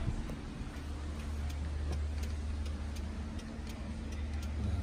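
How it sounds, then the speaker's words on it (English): Turn signal blinker on a Polaris RZR Turbo S fitted with a street-legal kit, faint regular ticking over a low steady engine idle. "And then do passenger blinker."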